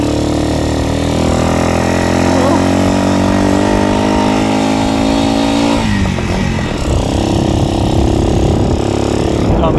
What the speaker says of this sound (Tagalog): Lakas ng motor!